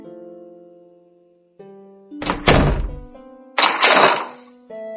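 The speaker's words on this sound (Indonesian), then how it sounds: "Air membuka pintu kamarnya dengan keras." A door is flung open forcefully, giving two loud close thuds separated by a short pause over a soft sustained musical tone, with no talking.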